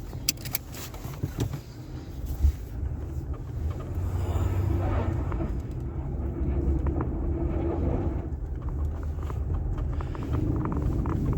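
A 1984 Crown Victoria rolls across a front lawn in winter, its engine a low steady rumble that builds after a few seconds, with interior rattles and clunks over the top.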